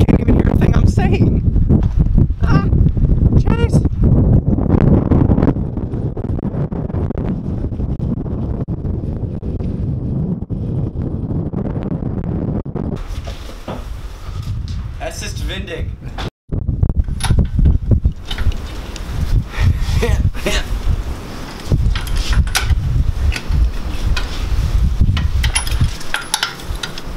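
Strong gusts batter the microphone for nearly half a minute, a loud constant low roar and buffeting with brief dips, with a voice talking faintly beneath it.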